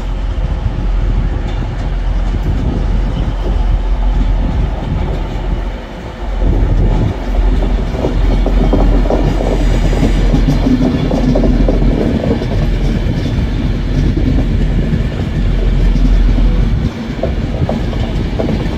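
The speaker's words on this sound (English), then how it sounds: "But here comes the Pendolino." A Pendolino train in standard green livery runs through Stockport station, a loud, steady rumble with clattering wheels and rail noise that surges and holds close by for the full length, with no talk over it.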